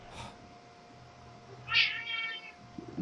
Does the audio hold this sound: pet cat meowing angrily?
yes